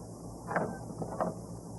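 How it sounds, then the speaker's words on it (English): Two short metallic scrapes and clicks, close by, of a key grinding into a back-door lock, separated by a brief pause over a low hum. "the scraping noise Floyd makes as he opens the back door with a key from his pocket"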